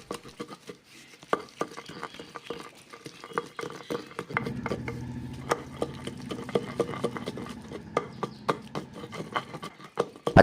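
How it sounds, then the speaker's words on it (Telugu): Roasted green chilies and tamarind are mashed outdoors for a rustic roti pachadi chutney, giving close, irregular tapping and squishing patter that grows denser and thicker halfway through. "ముందుగా దోరగా వేగించుకున్న పచ్చిమిరపకాయలు, కొద్దిగా చింతపండు, వీటిని కాసేపు మ్యాష్ చేసుకుందాం."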